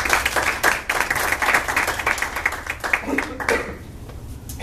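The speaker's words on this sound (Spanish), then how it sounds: "démosles un aplauso y bienvenidos" Audience applause welcoming speakers at a Chile global seminar, a dense patter of clapping filling the first three seconds before thinning out as a voice begins.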